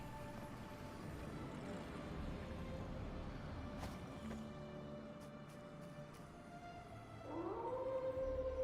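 The creature Howl in the video game Ori and the Will of the Wisps lets out a long, drawn-out wolf-like howl, fairly faint at first, then rising into a louder wavering cry near the end.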